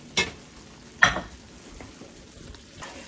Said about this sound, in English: Let's get this stirred up a little bit.